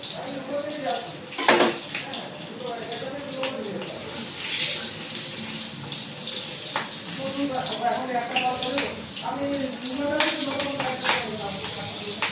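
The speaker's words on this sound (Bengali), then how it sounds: "সর্ষের শাকটা আমি এখানে ভেজে নেব।" Mustard greens sizzle and crackle in a pan with a soft, continuous hiss, punctuated by occasional clatters of the pan and utensil, while a voice talks over the cooking.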